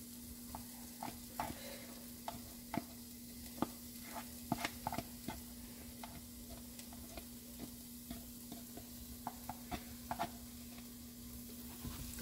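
Onions and garlic sizzle softly in a pot under a steady frying hiss, while a utensil stirs with scattered light taps and scrapes, faint and without voices.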